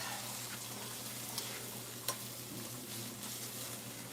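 Onions sautéing in a pan, softening for a rosemary chicken dinner, with a steady soft sizzle, a low hum underneath and a couple of brief utensil clicks; no one speaks.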